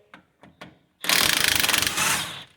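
A 3/4 socket on a power tool spins out bolts on a John Deere Gator, starting with three short clicks and then a loud, close, rapid rattling burst lasting about a second and a half.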